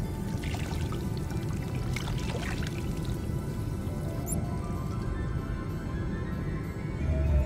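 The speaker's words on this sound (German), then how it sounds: "Da läuft Wasser." Tap water runs steadily from a sink faucet in the video game D4: Dark Dreams Don't Die, with weak water pressure; a continuous low pouring wash with faint dripping accents fills the scene.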